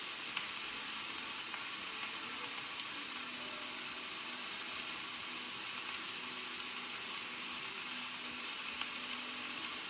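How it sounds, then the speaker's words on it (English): Andouille sausage browns in a soup pot, giving a steady, even sizzle and crackle that continues throughout at moderate level with no voices. "Let me get my soup a stir."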